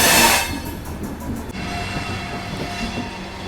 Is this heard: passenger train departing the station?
yes